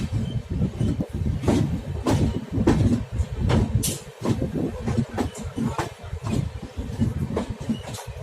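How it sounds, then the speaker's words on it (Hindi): Long Uttar Sampark Kranti Express 12445 train pulling slowly out of a station platform with an electric locomotive, a steady low rumble with rhythmic wheel clanks and rattles, heard from on board. "हमारी ट्रेन अभी तक प्लेटफॉर्म को छोड़ ही नहीं पाई है"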